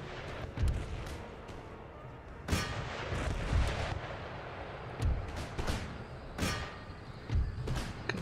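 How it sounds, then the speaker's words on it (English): Musket volleys and artillery fire in the battle game Empire: Total War, with repeated loud booming shots and crackling volleys at irregular intervals over a continuous rumble of battle. "they're sat there dropping volleys in against us"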